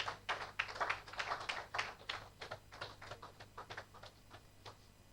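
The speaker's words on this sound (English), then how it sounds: "Please, a warm round of applause," Sparse applause from an audience at a memorial lecture, a modest scattering of claps at moderate distance with an uneven rhythm that thins toward the end, over a low steady hum.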